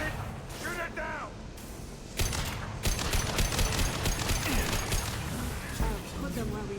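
Rapid gunfire rattles in Mass Effect 2 as shots aim at a loosened fuel tank, loud bursts of crackling shots and impacts, heaviest in the middle, with spoken voices and electronic effects mixed in.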